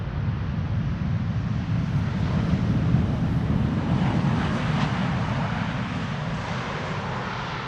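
An airliner lands on a wet runway at Amsterdam Schiphol on a December morning, a continuous broad engine roar mixed with rushing spray and wind noise, moderately distant and steady throughout, with no voices.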